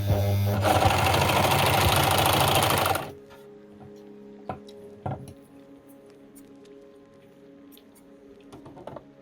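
An overlocker serges the long edge of fabric for baby pants in a loud, dense, rapid mechanical whirr lasting about two and a half seconds. It then stops abruptly, followed by quiet scattered clicks and handling sounds.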